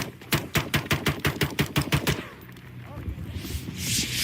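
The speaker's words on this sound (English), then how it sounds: "we've done a lot of shooting at this point on drones" Rapid gunfire at drones, a fast run of about fifteen sharp shots in a tight rhythm, loud and close, then stopping and giving way to quieter outdoor noise.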